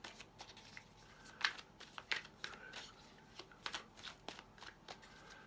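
A tarot deck shuffled by hand nearby, quick papery riffles and sharp card snaps in irregular bursts, fairly quiet with no speech.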